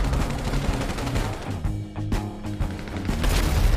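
Rapid gunfire and booming blasts crackle in a GTA Online battle, dense and loud, with a deep thud partway through.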